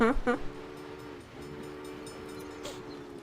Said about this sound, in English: Let's just see what happens when the next freight train comes in.